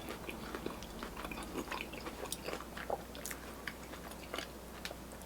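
Someone bites into and chews a crispy rice-coated Korean corn dog with a spicy sausage inside, close-up soft crunches and wet chewing in an irregular rhythm, fairly quiet, with no talk.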